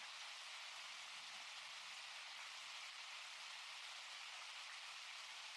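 Steady, faint hiss like rain falling in the background, continuous and even throughout with no voices over it.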